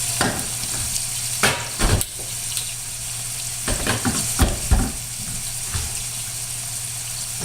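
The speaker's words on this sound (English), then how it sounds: "the timing should be good now to do the first stir on the onions" Onions fry in a pan with a steady sizzle, broken by several loud scraping stir strokes at irregular intervals, close up with no voices.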